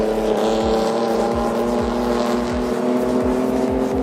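Speedway race cars lap a dirt oval at a season-opening meeting, a steady loud engine drone with harmonic whine and repeated passing sweeps roughly every half second, close and continuous with no talk.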